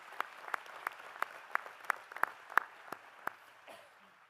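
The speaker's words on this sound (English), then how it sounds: "we can clap for that" An audience at a college commencement ceremony claps in a sparse, fairly rhythmic patter of about a dozen distinct claps. It sounds faint and distant and fades out at the end.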